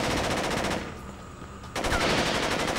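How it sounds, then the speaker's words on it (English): Rapid Uzi bursts from the video game Jet Li Rise To Honor, two loud sustained volleys of automatic fire separated by a brief lull. "Oh my god, what gun is that?"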